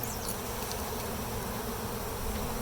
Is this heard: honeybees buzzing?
yes